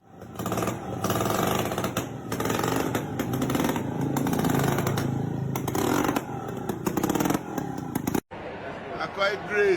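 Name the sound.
homemade wooden motorcycle engine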